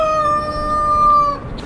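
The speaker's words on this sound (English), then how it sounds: "what are these chickens doing all of a sudden?" Homestead chickens give a loud, sustained, tonal call that sounds like a rooster crowing, heard close and alone for under two seconds before it fades.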